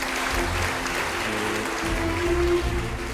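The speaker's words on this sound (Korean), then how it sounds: "박수 좀 부탁드립니다" Applause from an academic conference audience on Korean history fills the room steadily, with a low hum beneath and a few faint voices, at a moderate level throughout.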